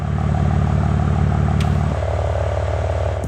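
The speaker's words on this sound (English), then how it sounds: "the freaking burbles now sound a lot louder and a lot more aggressive" A BMW G87 M2 with a Fi valved exhaust burbles at idle, a low, throbbing rumble with a steady pulse, close and loud, its pitch dropping slightly partway through.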